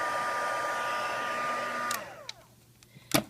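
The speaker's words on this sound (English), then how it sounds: "I'll also go from a different angle with my heat gun" A heat gun blows steadily over embossing powder on a handmade card, then switches off and winds down, its whine dropping away and leaving a few small clicks and a sharp tap at the end.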